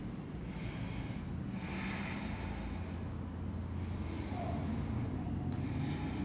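Deep yoga breathing comes in slow, full inhales and exhales, repeating in a calm rhythm, close and fairly soft, with no talking.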